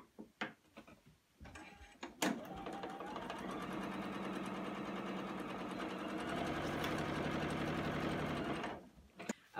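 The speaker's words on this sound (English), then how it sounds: "So I'm just going to go ahead and sew these together." Sewing machine stitching quilt pieces together, a steady rapid mechanical whir running for several seconds after a few brief clicks and handling noises, close and fairly quiet.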